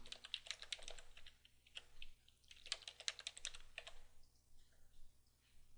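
Fingers tap out bursts of quick, light keystrokes on a computer keyboard, close and fairly quiet, with short pauses between runs of typing.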